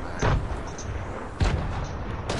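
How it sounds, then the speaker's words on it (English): A rocket launcher fires in a video game, two loud booming blasts about a second apart over steady background rumble, with no talk. "I'm gonna go over there here and shoot my rocket."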